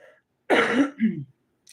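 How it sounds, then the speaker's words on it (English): A single harsh cough or throat-clearing, close and loud, followed by a shorter rougher rasp, then quiet. "I've been coughing all this shit up."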